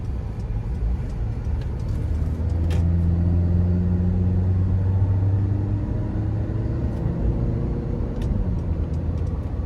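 A 2012 Honda CR-V EX-L with about 140,000 miles accelerates out of a corner, its engine drone rising steadily in pitch under a constant road rumble, heard from inside the cabin.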